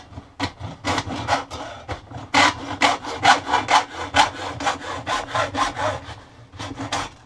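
A hacksaw cuts aluminum footing on a carbon arrow at close range. About fourteen steady back-and-forth strokes make a rhythmic, raspy sawing with brief gaps between pulls, and no voices.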